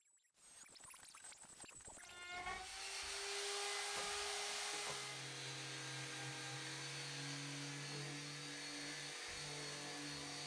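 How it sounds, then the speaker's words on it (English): A power router whines up to a sustained high-pitched scream as it rounds the sharp corners of boat stringers on a fishing boat, steady and loud after a brief start-up with a few clicks. "taking off some of the sharp corners, make them rounded by using a router"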